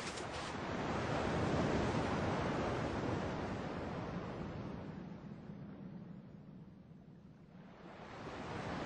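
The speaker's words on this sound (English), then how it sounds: "At least the waves sound the same." Steady ocean surf in a video game washes in a broad, continuous roar that swells and slowly fades before rising again, with no voices.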